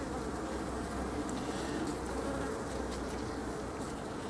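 Honeybees hum around a hive frame where a queen is being settled, a dense, steady drone holding unbroken and close throughout.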